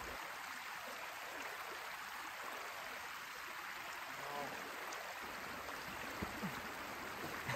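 Steady broadband rush of a river flowing through snowy mountain terrain, continuous and fairly even throughout, with faint splashy gurgles near the end.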